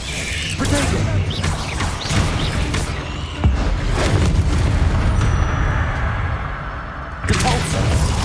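Bombarda explosion spells go off in Hogwarts Legacy as heavy booms and crashing debris, with a sharp blast around the middle and another near the end, over dense game noise in a catacomb-like setting, while a voice talks.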